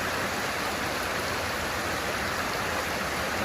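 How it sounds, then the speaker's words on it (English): Water running along a small channel fed from across a lake, a steady close rushing wash with no pauses and no other sounds. "from across the lake, the water runs over here. And it's a nice little channel."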